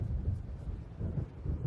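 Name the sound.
thunder of approaching storm in Alan Wake video game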